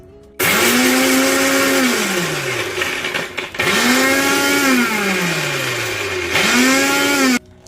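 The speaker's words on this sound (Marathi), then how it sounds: "आणि हे पण ऑन ऑफ ऑन ऑफ करून मिक्सरला फिरून घेते" A mixer grinder pulsing niger seed chutney with green chillies, garlic, cumin and salt, running in three loud bursts: the motor whines up, holds a steady grinding roar, then winds down between pulses.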